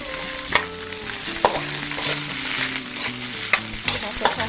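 Garlic browning and onions frying in a pan for Filipino adobong dila with banana blossom, a steady close sizzle with repeated sharp clinks and scrapes of a utensil stirring against the pan, no voices.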